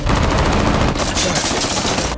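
Loud, dense gunfire from a sniper action film crackles in rapid bursts filling the whole stretch, close and harsh.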